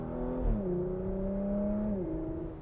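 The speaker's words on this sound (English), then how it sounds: "then you have all of this thrill from this butterfly exhaust" A 2021 Porsche Macan GTS engine revs loudly through its butterfly exhaust, a steady droning roar that drops in pitch twice as gears shift, heard close with no talking.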